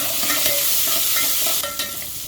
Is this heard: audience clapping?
no